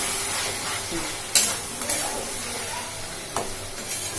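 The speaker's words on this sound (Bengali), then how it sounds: "একটু ভালো করে নেড়ে নিতে হবে।" A spoon scrapes and stirs pasta coated in pasta masala around a pan, with a soft ongoing sizzle under a few sharper clinks of utensil against metal.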